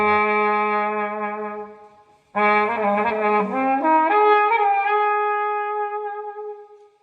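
Trumpet run through a wah guitar pedal into an amp and cabinet, heard in the room: a held note, a short break, then a wavering phrase with sweeping wah tone that settles into a long sustained note.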